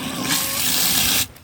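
Water poured over rolled oats in a container, a steady gushing fill for about a second that stops abruptly, close and alone with no talking.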